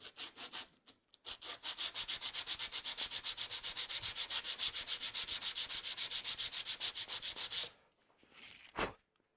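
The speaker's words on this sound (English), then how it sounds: "So I've got a little bit of sandpaper here." Rapid back-and-forth hand sanding with sandpaper on the adjustment lever of a Stanley No. 4½ smoothing plane, a fast, even rhythmic scratching of dozens of strokes, close and steady, then a pause and a final rub.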